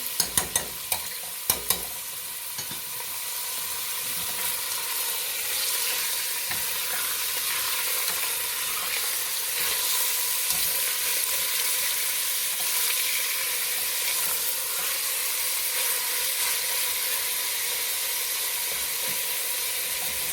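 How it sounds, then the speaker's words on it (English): Diced pork browns in hot oil covering the bottom of a pan, giving a loud, continuous sizzle and hiss with a few sharp clatters of stirring at the start. "we're going to start browning our pork first. Go ahead and put that in some hot oil."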